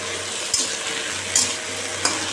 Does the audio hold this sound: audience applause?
no